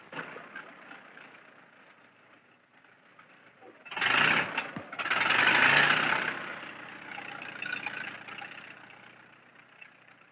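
An early farm tractor engine runs steadily under a rural barn scene, a rough mid-range rumble that swells loudly for a couple of seconds midway before settling back to a continuous drone.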